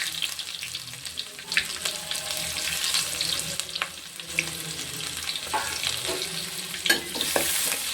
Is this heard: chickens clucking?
no